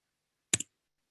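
A single quick double click from a mouse or key while navigating an interactive data plot, faint and isolated in silence.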